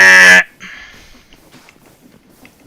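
A voice imitates an extremely loud incorrect buzzer with one harsh, blaring honk that stops abruptly, followed by faint room noise.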